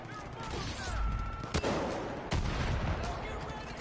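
Gunfire in Far Cry 5 Arcade mode, a few sharp distant shots popping irregularly over a dense, rumbling din of combat noise.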